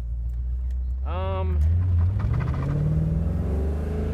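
A Ford Coyote V8 car engine with Griggs parts, on its stock tune, idles with a low, steady rumble, rising briefly in pitch as it revs once, while a voice speaks over it.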